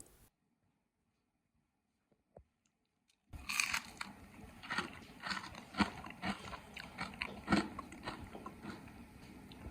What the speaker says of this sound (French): c'est super crunchy, très croquant